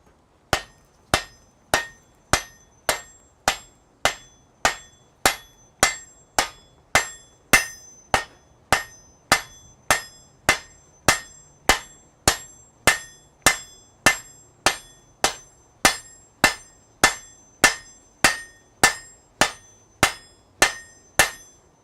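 A blacksmith hammers hot metal at the forge in a smithy, with bright ringing blows in a steady rhythm of roughly one strike every 0.6 seconds, close and clear with no talking.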